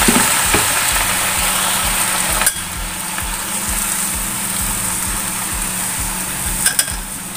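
Mustard greens (sawi) stir-frying in a pan with a splash of water, a steady loud sizzle with rhythmic scraping stirs and a low burner hum, no talking.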